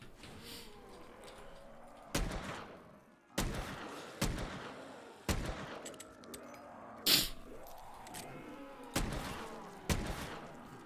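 Gunfire from a hammer-cocked gun in a custom zombies video game, about eight single sharp shots spaced roughly a second apart, each with a short decaying tail and quiet mechanical clicks between.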